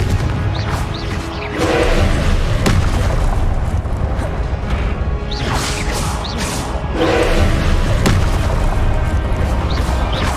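Confringo spell explosions in the Hogwarts Legacy video game sound as heavy booms and crashes, recurring every few seconds amid whooshing spell effects and busy, loud battle noise.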